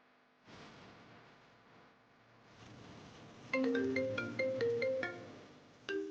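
A phone ringtone plays a bright repeating melody of short electronic notes in several bursts, rising over quiet room sound with a low rumble beneath.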